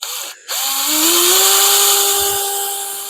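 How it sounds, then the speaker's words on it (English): A power drill whines loudly and steadily, its pitch rising as it spins up and bites into metal while drilling small holes for an intake manifold, after a brief pause near the start. "So we're drilling the last 4 holes out of the 28 holes or whatever it was."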